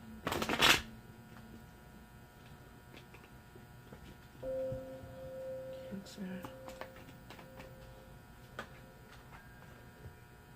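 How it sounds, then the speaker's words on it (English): Tarot cards being shuffled by hand indoors, a brief loud riffle at the start followed by softer scattered card taps and shuffling over a steady electrical hum. "I need space to shuffle."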